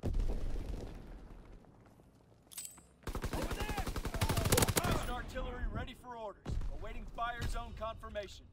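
Call of Duty fighter pilot strafing run, with rapid bursts of heavy gunfire and booming impacts coming in waves. Loud and close at times, mixed with radio voice callouts.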